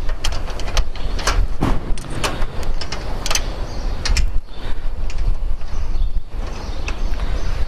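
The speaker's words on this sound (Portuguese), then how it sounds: "Fixei já, vou para o 3º parafuso." Screws are fastened on solar panels mounted on an aluminium frame, giving rapid sharp clicks and metallic taps in irregular bursts over a dense rattling background, close and fairly loud, with no voices.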